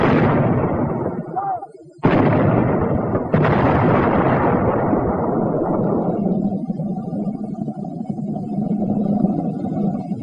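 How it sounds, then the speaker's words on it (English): Howitzer shells with high explosive rounds go off in two heavy, booming blasts a couple of seconds apart, each rolling into a long rumbling tail that fades into sustained low noise. "Here are the 2 whoppers the howitzer pounds out."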